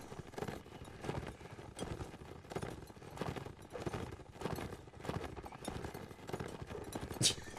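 Many horses gallop in a battle in the video game Mount and Blade Warband, with a dense, steady clatter of hooves and a brief whinny near the end. Someone talks over the hoofbeats throughout.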